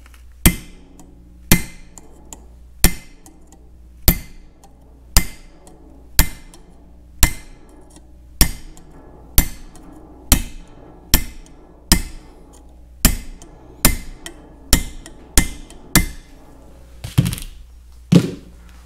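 Steady hammer blows fold down a second lock tab on a prototype steering sector: about eighteen sharp metallic strikes, evenly spaced roughly a second apart, close and loud against a quiet shop with a faint hum.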